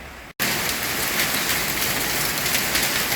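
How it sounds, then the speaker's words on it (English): Hail and heavy rain pour down during a thunderstorm, a dense steady hiss and patter that starts abruptly after a brief gap and stays loud and continuous, with no talk. "It's hailing!"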